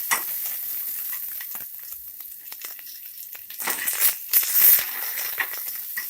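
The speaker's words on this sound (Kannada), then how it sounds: "ಬೆಳ್ಳುಳ್ಳಿ ಹಾಕ್ಕೊಳ್ಳಿ, ಹಸಿಮೆಣಸಿನಕಾಯಿ, ಸ್ವಲ್ಪ ಫ್ರೈ ಮಾಡ್ಕೊಳ್ಳಿ" Garlic and green chillies fry for a country chicken curry, a crackling sizzle with scattered spoon scrapes and bursts that grow louder and busier in the second half.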